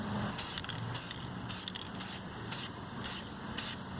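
Spray paint misted in a light coat onto a classic Vespa from about ten inches away, seven short hissing bursts in an uneven rhythm, close and fairly loud.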